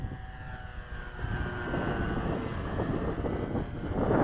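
FMS 1400mm Cessna 182 RC model airplane flying at Gilmore Field: a steady propeller and motor drone with wind noise, rising slightly louder toward the end, with no voices.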